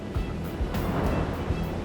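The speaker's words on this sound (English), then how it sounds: "We're getting pounded by these waves." Rough sea with 6-7 foot waves churns and crashes continuously against a CL-215 water bomber floatplane, with low booming surges and steady wind-like noise throughout.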